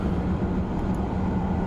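A TGV Duplex high-speed train accelerates uphill between Avignon and Marseille in Train Simulator 2016. Its low, steady rumble of running gear and motors fills the clip at constant loudness, with no talk.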